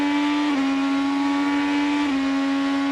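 IndyCar race cars at the 2019 Bommarito Automotive Group 500 scream past in a close group, a loud, steady high-pitched engine whine that dips in pitch twice as cars pass.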